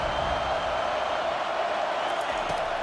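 A stadium crowd in EA Sports College Football 25 produces a steady, loud roar that holds without a break through the whole stretch, with a commentator's voice heard over it.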